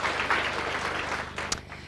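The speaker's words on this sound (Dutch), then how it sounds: "Applaus" Applause from a small audience at a Dutch boutique fashion presentation as local shop owners are introduced, a steady wash of clapping that fades near the end with a brief sharp burst.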